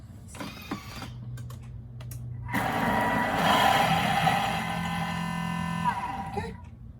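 Food processor whirring through sesame tahini in a home kitchen, a steady mechanical drone lasting several seconds after brief clicks and a short voice, then cutting off near the end.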